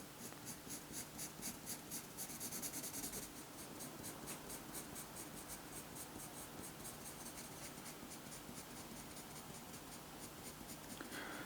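A pencil sketches the long drooping tail feathers of a bird on paper, giving a steady, close scratch of graphite strokes that scrape and rub continuously without pause.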